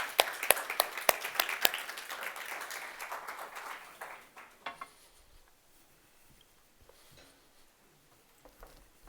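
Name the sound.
audience applause for a speaker coming on stage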